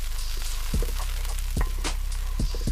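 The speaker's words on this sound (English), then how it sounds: "Start to boil, lower the heat and let it simmer" A sweet and spicy garlic chicken sauce bubbles and sizzles steadily in a pan, with a few soft low thuds recurring through the continuous frying hiss.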